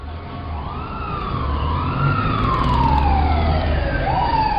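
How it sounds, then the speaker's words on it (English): Ambulance and police car sirens arrive in a loud, steady wailing sweep that rises and falls over a low traffic rumble, with no talking. "They're going to send an ambulance and a police car right away."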